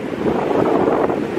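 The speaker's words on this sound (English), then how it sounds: "I'm really sorry if it's windy" Wind at a beach in Struisbaai buffeting the microphone, a continuous loud rumbling roar with gusty low-end pulses and possible surf underneath, steady throughout with no talking.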